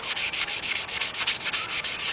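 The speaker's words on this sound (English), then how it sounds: "now it's time to use a sanding sponge" Rhythmic back-and-forth strokes of a medium-grit sanding sponge on painted clone trooper armor, about eight per second's span, brisk and close, with a dry rasping texture and no talking.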